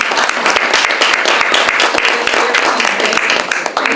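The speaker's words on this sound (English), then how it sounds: "Please give a round of applause to the club officers" An audience at a Toastmasters awards ceremony applauds steadily, many hands clapping close together in a dense, continuous burst.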